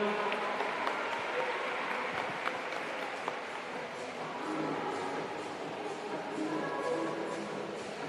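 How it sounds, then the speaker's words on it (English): Distant, low-level applause fills a swimming pool arena at the New Zealand Swimming Championships finals for swimmer Riley Sayer, a steady wash of clapping with reverberant hall ambience and occasional sharper claps. "Round of applause for Riley Sayer, ladies and gentlemen"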